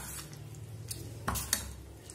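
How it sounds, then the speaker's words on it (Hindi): Flat beans (sheem) stirred with spices in a kadai: a steady low scraping and soft rustle, with a few sharp metallic clinks and knocks of a spoon against the pan near the middle, close and alone. "अब ये सीम को ये मसाले के साथ अच्छे से मिक्स करेंगे।"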